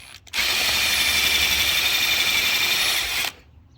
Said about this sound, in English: then it's easy enough to drill in and just you can kind of angle the drill